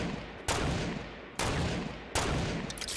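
Minigun fire in Fortnite Battle Royale: three loud, dense bursts of rapid automatic shots, each starting abruptly and rattling on continuously into the next, close and harsh with no talking over them.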